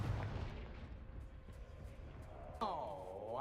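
Confringo fire spell cast in Hogwarts Legacy: a dense, booming blast of noise, then a sharp whooshing burst with a sweeping ringing tone near the end, loud and close.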